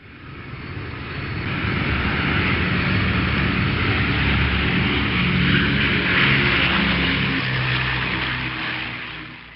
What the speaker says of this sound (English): The airplane in the sky goes zoom, zoom, zoom, high in the clouds.